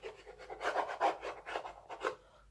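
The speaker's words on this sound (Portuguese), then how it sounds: "Eu posso também passar essa dobradeira aqui, ó. Tá? Para que ele fique mais aderido ainda," A bone folder rubbed over paper on a decorative board with a pepper design, pressing the paper down at the corners; soft, close rasping strokes repeat in an uneven rhythm, quiet and with no speech over them.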